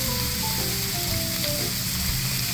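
Lobster sizzling on a hot cooking surface, a loud steady hiss and crackle with faint clinks of utensils, close and continuous without talk.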